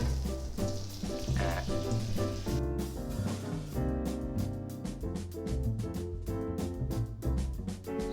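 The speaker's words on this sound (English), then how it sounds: "Up next, we're going to add 1/4 cup of butter and a 1/2 cup of oil." Butter and oil sizzle in a pot at the start of a seafood gumbo roux, a steady, continuous frying hiss that runs throughout without pause.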